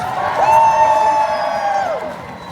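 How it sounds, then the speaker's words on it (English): At a pro-Palestinian protest rally in Leeds, a crowd gives a short, loud burst of cheering, led by one high whooping voice that holds steady and then falls away. "Let's have another cheer for ourselves."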